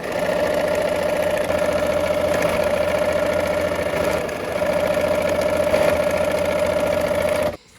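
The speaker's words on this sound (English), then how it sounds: "let's go ahead and sew this together" A sewing machine runs steadily for several seconds as quilt pieces are sewn together, with an even motor hum close by that cuts off abruptly at the end.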